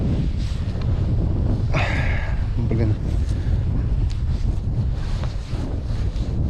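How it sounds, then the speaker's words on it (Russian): Cold north wind blows across an open, frozen outdoor fishing spot in harsh winter weather, a steady loud rumbling buffet on the microphone throughout, with someone speaking briefly over it. "Ну, северяк дует."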